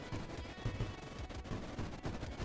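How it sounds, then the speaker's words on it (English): Apex ship cannons in the video game Creeper World IXE fire on the creeper in a steady, rapid stream of muffled shots, close and continuous, like distant machine-gun fire, with no talk over it. "We should probably move the apex ship in range and point its cannons on the creeper as well."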